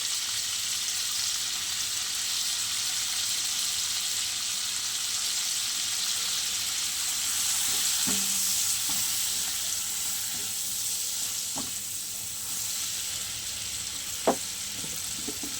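Turmeric and spices sizzle lightly in a hot pan for Bengali lau shak, a steady soft frying hiss throughout with a few small stirring knocks.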